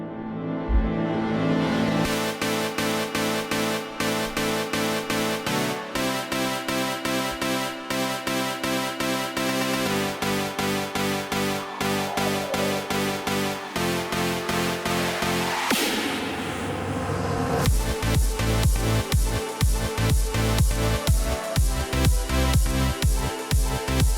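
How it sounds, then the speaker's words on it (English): A dense electronic remix passage, built from loud, rhythmic synthesizer chords that pulse steadily, with a rising sweep and a brief break before the beat returns even harder. "This is the first note of my chord progression right here that you're about to hear."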